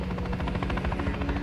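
Helicopter in the video game Call of Duty Modern Warfare 3, its rotor chopping in a fast, even beat with a low engine drone, loud and close, with no talk over it.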